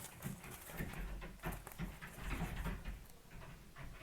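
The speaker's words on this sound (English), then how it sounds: "can you hear the dog?" A dog whimpers and pants in a run of soft, uneven bursts with breathy gasps, fairly close and moderately loud, with no talking.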